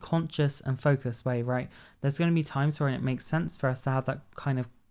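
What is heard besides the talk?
No everyday noises stand out.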